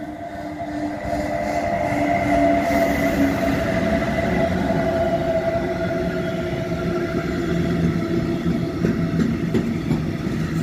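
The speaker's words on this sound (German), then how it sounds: "Es ist eine DB Cargo rote Lokomotive, eine 145" A red DB Cargo class 145 electric locomotive hauling a container train passes through a station in Gemünden am Main, Bavaria, giving a loud, sustained rumble of wagons rolling by, with a faint tonal whine and occasional wheel clatter, no talk.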